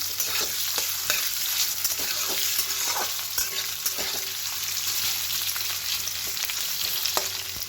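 Steady crackling sizzle of potatoes frying in hot oil over high heat, with occasional sharp pops and scraping stirs, fairly quiet and close, no voices.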